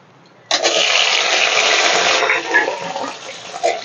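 Diced onions dropped into hot oil already seasoned with whole cumin and whole garam masala, for a Bengali fish curry, set off a sudden loud, steady frying sizzle that holds for a few seconds and then eases slightly.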